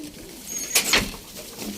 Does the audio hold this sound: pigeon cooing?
yes